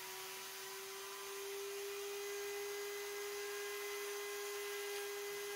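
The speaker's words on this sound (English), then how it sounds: "I grab my Dremel with a tiny little burr bit and I get to hogging out these joint pockets." A Dremel rotary tool fitted with a tiny burr bit hollows joint pockets in a wooden swimbait lure, giving a steady, thin high-pitched whine that holds faint and even throughout.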